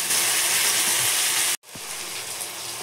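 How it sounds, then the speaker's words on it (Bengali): Onions and green chillies fry in a pan with salt, giving a steady close sizzle and hiss that cuts out for an instant midway, then resumes with a soft stir. "নরম হয়ে হলে নুন দিয়ে দিলাম, দিয়ে ভালো করে লাল লাল করে ভেজে দেবো।"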